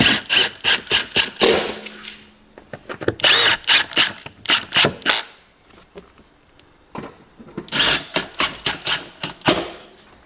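Power drill driving bolts down into a car floor during vehicle fit-out, heard as three bursts of rapid buzzing, ratcheting whirs close up, separated by short pauses.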